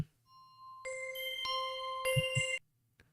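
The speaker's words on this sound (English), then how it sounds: "I've got the game show sound" A bright, tonal game show sound effect: sustained synthetic chimes and ringing tones layered in bursts, with low thumps near the end before it cuts off abruptly, loud and alone.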